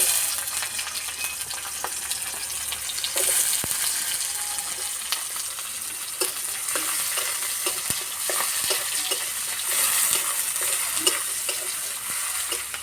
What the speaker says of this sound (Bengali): তেলে দেবো 5 ফোড়ন, তেজপাতা। এবার দেবো পেঁয়াজ কুচি।